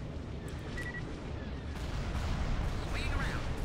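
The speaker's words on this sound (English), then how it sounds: "Stay in attack formation. Fire. Open fire." Laser cannons of X-Wing starfighters fire at TIE fighters during a Star Wars space combat game, with sharp zapping bursts over a dense, constant roar of battle and engine noise, a few brief bright tones sweeping near the end.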